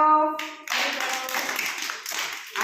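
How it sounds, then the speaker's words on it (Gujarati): Children in a classroom clapping their hands after a brief voiced sound at the start, a dense patter of quick claps that goes on steadily to the end. "વેરી ગુડ ભાઈ તાળી પાડો"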